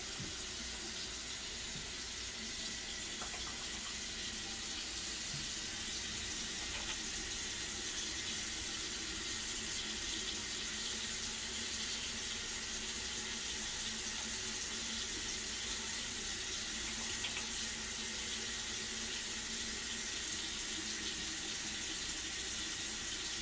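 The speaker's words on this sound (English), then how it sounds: "gonna go ahead and turn the water on." Water runs steadily from a tap into a sink, a constant hissing splash that continues unbroken throughout.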